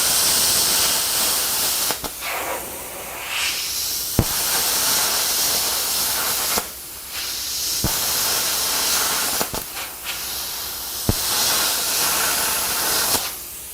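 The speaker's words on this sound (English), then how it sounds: "Very quick work at 20 amps with that sheet metal there." A YesWelder CUT-55DS plasma cutter set to 20 amps slices through sheet metal with a loud, hissing air blast, broken into several bursts separated by short pauses and sharp clicks, with no talking.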